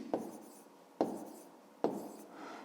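Pen or chalk writing out a long multiplication result for a 5th-grade maths exercise, three distinct strokes each starting with a sharp tap and trailing into a scratchy drag, close and clear with no talking.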